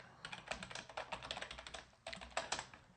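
Commands are typed on a computer keyboard in rapid, uneven bursts of crisp key clicks, close and clear, with a short pause before a final flurry.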